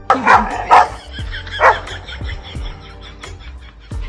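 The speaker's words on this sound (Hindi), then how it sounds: "कुत्ते बस भौंकने में ही माहिर होते हैं" Several loud, close barks come in a quick burst, then fainter scattered barks and yips follow, sounding like more than one dog.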